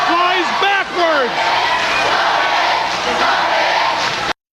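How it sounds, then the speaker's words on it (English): Wrestling crowd at a 1992 WCW Saturday Night event chanting along with a wrestler, loud rhythmic shouted voices rising and falling over a dense arena roar, which cuts off abruptly at the end. "the crowd was chanting along with him"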